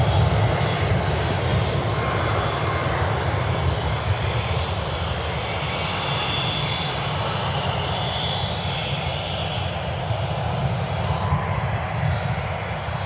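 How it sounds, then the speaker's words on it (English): Airliner jet engines roaring steadily as the plane makes its takeoff roll at Cleveland Hopkins airport, a loud, sustained broadband rumble and whine with no talk over it. "They're under takeoff roll now."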